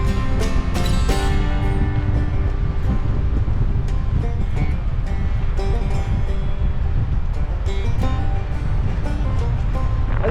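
Strong wind buffets a campsite on an end-of-season hot tent camping trip, a loud continuous roaring rush that swamps the microphone with heavy low rumble and no break throughout.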